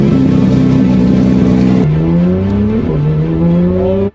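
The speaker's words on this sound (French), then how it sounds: "Le bruit de l'échappement est complètement dingue." A loud, close Porsche GT3 RS engine roars and climbs through the revs, with a shift and the exhaust note rising again before cutting off abruptly.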